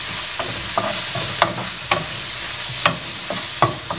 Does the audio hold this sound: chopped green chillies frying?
yes